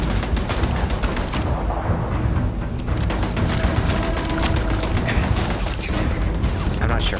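Dense, continuous gunfire fills a firefight in the video game Starfield, with rapid overlapping shots and booms sustained loudly from start to finish.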